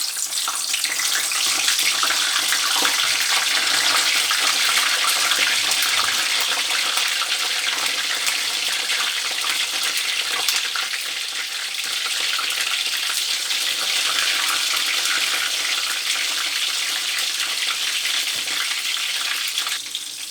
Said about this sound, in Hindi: तो यहाँ मैं फ्राई कर रही हूँ